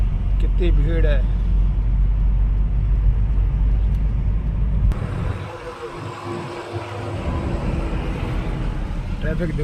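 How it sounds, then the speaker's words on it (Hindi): Heavy highway traffic on a crowded Indian highway near a bus stop during Diwali travel, with cars, trucks and buses rumbling steadily and close; a low engine drone dominates, easing off slightly halfway through, with speech in the background. "ट्रैफिक देखो भाई साहब हाईवे पे"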